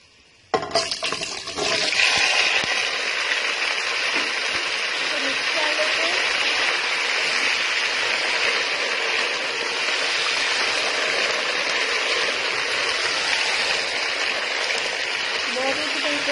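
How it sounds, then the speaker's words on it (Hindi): Potato slices sizzle in hot oil with spices in a pan, a loud steady hiss starting abruptly and continuing evenly throughout, with no clear talk over it. "2 मिनट ऐसे ही फ्राई करेंगे ऑयल और मसाले के अंदर"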